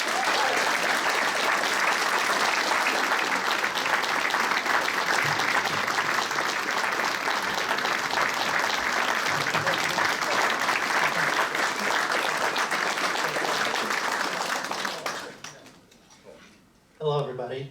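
An audience at a jazz award ceremony applauds a young talent award winner in a long, sustained, even round of clapping that fades out, followed by a person starting to speak.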